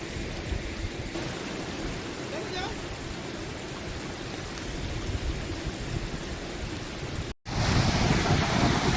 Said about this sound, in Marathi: या ठिकाणचे झुळझुळ वाहणारं हे पाणी